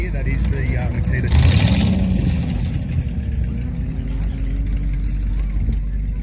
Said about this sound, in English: The engine you can hear, that is the Makita.